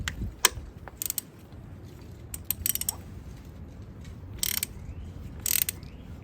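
Ratchet wrench turning an 18 mm socket on the spark plug of a 1978 Honda CB400, heard as short clicking ratchet bursts spaced irregularly over a steady low background hum, fairly close.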